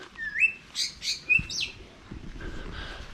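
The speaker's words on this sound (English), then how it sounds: "Oh, there's lots of exotic birds in here." Exotic birds in an aviary in Ubud, Bali, give a few bright, clear chirps and short whistled calls close by, spaced out over a soft background.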